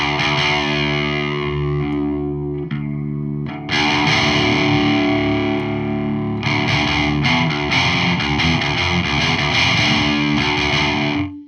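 Distorted electric guitar through a Randall Diavlo RD1H amp with its TSS switch flipped to one side, playing sustained chords and riffs with a short pause around the third second, loud and steady with no talking.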